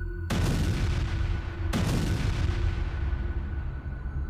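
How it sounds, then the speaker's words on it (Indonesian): Explosion sound effect for an audio drama battle scene in which grenades are thrown at a giant: two heavy booming blasts, the second about a second and a half after the first, each trailing into a long low rumble. "Suara ledakan menggelegar."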